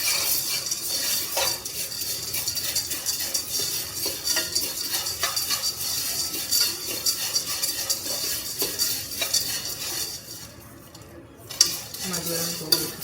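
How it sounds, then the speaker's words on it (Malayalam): Maggi noodle masala roasts in a pan as a metal spoon scrapes and clinks against it in a steady stirring rhythm over a faint sizzle, close up and without talk. "ഇതാണ് കേട്ടോ മാഗിൻ്റെ മസാല വറുത്തുകൊണ്ടിരിക്കുകയാണ്"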